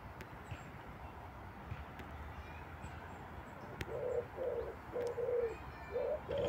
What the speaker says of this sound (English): So there's another one somewhere else cooing.